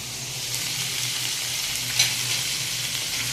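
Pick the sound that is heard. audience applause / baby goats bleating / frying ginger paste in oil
frying ginger paste in oil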